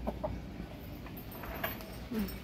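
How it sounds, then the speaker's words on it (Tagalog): Several chickens cluck softly nearby, short scattered calls over a low background murmur, with one louder cluck near the end. "Dami nilang manok dito."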